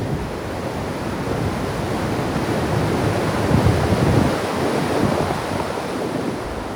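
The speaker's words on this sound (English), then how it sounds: "right up ahead before I go up to the tower is the spillway" Water pours over a large dam spillway in Massachusetts, making a steady, broad roar of rushing water, loud and constant throughout with no voices.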